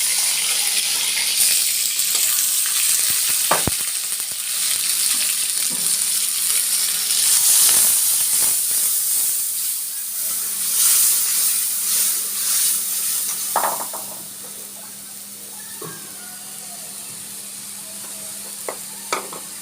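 Ground spice paste hits hot oil in a pan and sizzles with a steady bright hiss, broken by occasional scrapes and clinks from stirring. No one talks.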